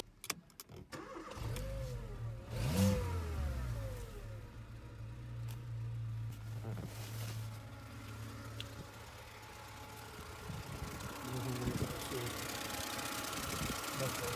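A 2006 Mercedes-Benz A-Class with a 1.5-litre petrol/LPG engine cranks, fires up and settles into a steady idle, the engine sound running loud and close through the clip with a few brief knocks and handling noises.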